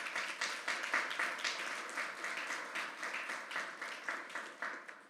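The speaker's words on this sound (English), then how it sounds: "give a round of applause for that" An audience applauds at a school scholars signing day, a steady wash of many hands clapping at moderate volume with a slightly pulsing rhythm, no voices over it.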